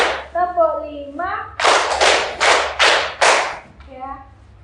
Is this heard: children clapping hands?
yes